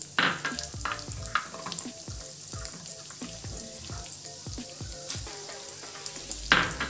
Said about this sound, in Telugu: పచ్చిశనగపప్పు మినపప్పు వేయించుకోవాలండి.